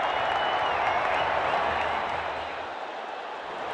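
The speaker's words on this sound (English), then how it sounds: "Huge sounds from the crowd as the match gets under." A stadium crowd at a Bangladesh versus Australia cricket match applauds and cheers as play begins, a broad, steady wash of clapping and noise that softens slightly toward the end.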